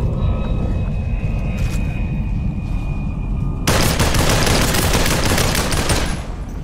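Gunfire in the VR shooter POP: ONE on the Metropolis map: a continuous loud rattle of shots with rumbling, which thickens sharply into heavier overlapping fire partway through, with no talk.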